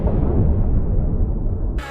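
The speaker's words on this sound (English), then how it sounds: "such as explosions" An AI-generated explosion sound effect: a loud, deep boom that rumbles and slowly fades for nearly two seconds, then cuts off abruptly.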